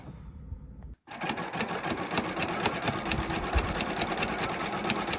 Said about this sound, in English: So we'll just sew all of these together